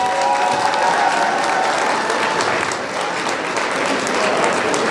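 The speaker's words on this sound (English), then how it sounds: "while the applause continues" A large audience at a Jamaica 60 Diamond Jubilee gala applauds an honoree, dense and sustained clapping filling the hall with faint cheering and a few voices mixed in.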